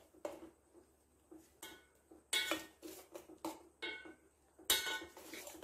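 A spoon stirs ground coconut paste into cooked ridge gourd in a pot, giving soft scrapes and several sharp metallic clinks against the pot, fairly quiet and close.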